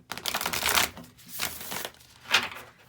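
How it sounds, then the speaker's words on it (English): A deck of tarot cards is shuffled by hand in three quick riffling bursts, close and fairly soft, separated by short pauses. "one more shuffle and then I'll pull some cards"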